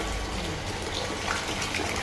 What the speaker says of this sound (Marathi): पाण्यात खूप घाण आलेली आहे, म्हणून आपण वॉश करतो मेम्ब्रेन.